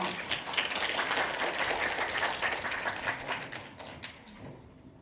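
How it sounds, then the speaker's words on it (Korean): Audience applause at a Korean language program graduation ceremony, a dense steady wash of many hands clapping that fades out near the end. "큰 박수로 맞아주시기 바랍니다."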